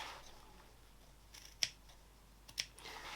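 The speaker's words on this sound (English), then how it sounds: "Now I'm going to snip into those V's because we're going to be turning that through" Scissors snip into the fabric seam of a beanie, two sharp, close cuts about a second apart against a quiet background.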